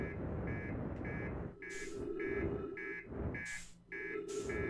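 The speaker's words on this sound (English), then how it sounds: "because it's still like beep, beep, beep" Beeping alarm in the Outer Wilds video game: a regular series of short electronic beeps repeating in pairs, clear and fairly loud over a low background rumble.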